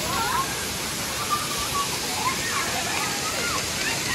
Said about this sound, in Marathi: आणि त्या साईड एक मोठं धबधबा